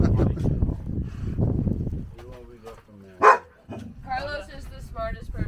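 A little dog barks several times in an outdoor camp setting, yips close by and fairly loud, mixed in with people talking.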